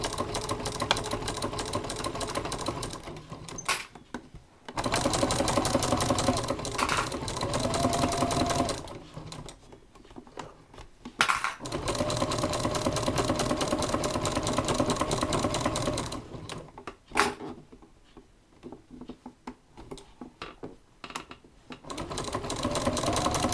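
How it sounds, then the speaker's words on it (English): A sewing machine stitches yellow quilt sashing in several bursts of rapid, even whirring, broken by brief pauses between runs. "we're just stitching on the yellow in my case"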